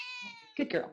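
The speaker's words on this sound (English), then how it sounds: "That's my cat." A pet cat named Turkey meows in a drawn-out, tonal cry close to the microphone, followed by a person speaking briefly.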